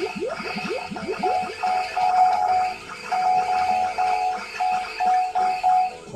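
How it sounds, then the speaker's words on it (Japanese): Repeated metallic clanging hits on a boss in the Space Harrier arcade shooter, ringing tones pulsing in a steady run over busy game music and sound effects. "ダメージを与えるこのカンカンカンって音がなんか好きなんですよね"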